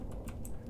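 A few crisp clacks from a clacky computer keyboard, three separate keystrokes close to the microphone over a low hum, with no voices.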